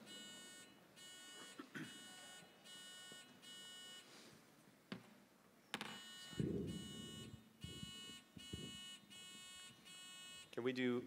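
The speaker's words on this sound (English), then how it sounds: "we gotta do a buzzer check first" Quiz-bowl buzzers at an academic tournament finals, tested one after another as a series of harsh electronic buzzes, each about half a second long, with brief voices and room noise between them.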